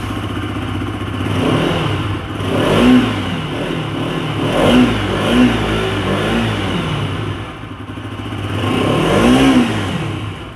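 A 2022 BS6 Bajaj Pulsar RS 200 motorcycle starts up and settles into a throbbing exhaust note, with several rising revs and blips over about ten seconds, loud and close.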